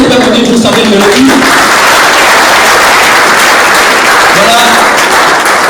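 An audience at a school integration event breaks into loud, sustained applause, a dense wash of clapping that fills the room. Over its opening, a person speaks briefly into a microphone.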